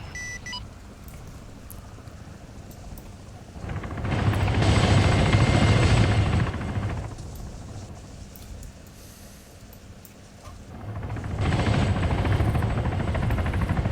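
In the video game ArmA 3, a helicopter takes off; its rotor and engine roar swell loudly twice over a quieter background hum.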